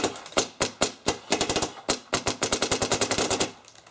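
Airsoft Cyborg gun fitted with a Deadly Wind barrel fires in sharp, snappy bursts: a few single shots, then rapid strings of cracks, close and crisp with no voices.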